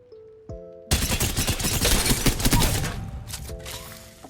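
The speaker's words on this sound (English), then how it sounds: "And again, 3 steps back and hip fire." Hip-fire gunfire in the video game Apex Legends: after a couple of soft clicks, a dense rapid burst of shots runs for about two seconds, loud and continuous, then fades out, with no voices.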